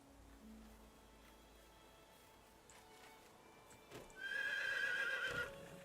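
A horse whinnies loudly and close by in Medieval Dynasty, a long high neigh rising over quiet ambience, with faint hoof clops before it.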